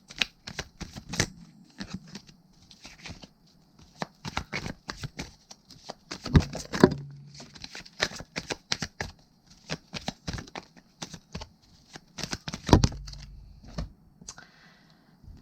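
Playing cards handled and drawn one at a time, quick sharp snaps and soft slides in irregular clusters, close and crisp against near silence.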